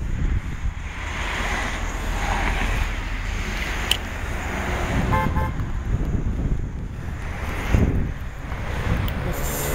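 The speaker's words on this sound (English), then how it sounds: "There's a 70 bus going by." A SEPTA route 70 city bus passes in Philadelphia traffic. Its engine rumble and tire roar rise and fall over wind noise from a bicycle ride, with a brief horn-like toot. No one speaks.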